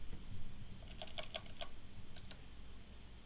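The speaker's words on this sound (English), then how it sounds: "log in, type in the password" A password being typed on a computer keyboard: a quick run of crisp, close key clicks, then a few more taps, quiet and alone.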